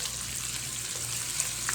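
Red pepper and Italian sausage sautéing in a pan, giving a steady, even sizzle of frying close by with faint stirring clicks near the end and no talk.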